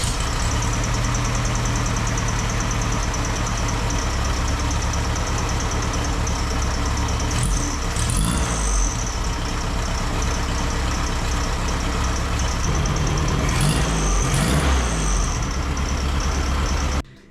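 A once fire-damaged Volkswagen Beetle engine, out of the car, idles steadily with a low, even rumble and a couple of brief clicks before cutting off, close and alone.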